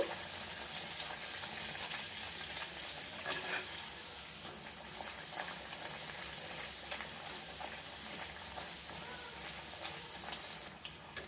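Urad dal kachori fry in hot oil with a soft, continuous sizzle, faint and steady throughout with light crackling.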